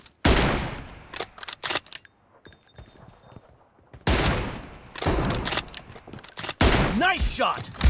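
Rifle shots crack sharply in an online 2v2 game restricted to M24 sniper rifles, several loud blasts arriving in bursts with gaps between them, mixed with game effects and a voice speaking.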